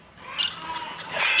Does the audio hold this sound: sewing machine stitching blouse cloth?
no